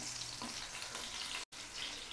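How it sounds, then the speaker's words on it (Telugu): Green chili pieces fry in hot oil with a steady, faint hiss and sizzle heard close up, briefly cut off by a moment of silence before the sizzling resumes. "పచ్చిమిర్చి ముక్కలు వేసుకొని కొంచెం లైట్గా ఫ్రై అవ్వనివ్వండి."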